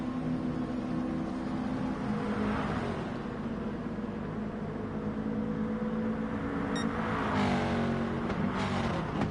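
A Gran Turismo race car pulls hard out of a corner, its engine rising in pitch through successive upshifts, loud and steady throughout, with a brief sharp click partway through and no voices.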